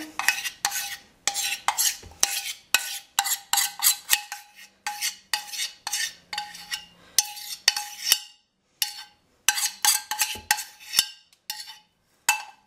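Spoon scraping and clinking against a bowl as chocolate mousse mixture with melted chocolate is stirred, a quick irregular run of sharp close taps and scrapes separated by short pauses.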